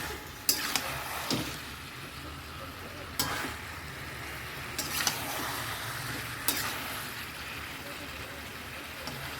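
Meat is sautéed in a pan until the oil separates, with a soft continuous sizzle and several sharp spoon scrapes and clanks as it is stirred. A voice may be faintly present underneath.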